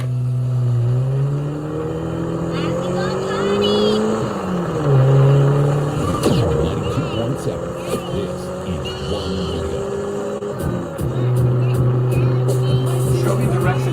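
A car's engine and road noise heard from inside while driving, the engine pitch rising and falling as the car speeds up and slows, sitting loud and close for the whole stretch.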